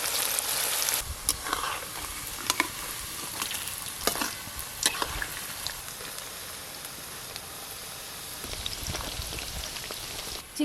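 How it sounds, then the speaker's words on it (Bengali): Chicken pieces for chilli chicken fry in hot oil in a kadai, a steady close sizzle with scattered crackles and sharper spits throughout, with no talking. "দুবার ভাজতে হবে।"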